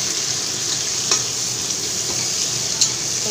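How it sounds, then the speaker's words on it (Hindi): Onion and green chili frying in a pan for a fish head curry, a steady bright sizzle that holds evenly throughout, with two soft stirring knocks breaking through, no talk. "मैंने प्याज और ग्रीन चिली को एक साथ डाल दिया। अब मैं थोड़ा बहुत इसको फ्राई कर लूँगी।"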